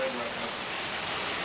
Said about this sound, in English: This is the rain right now.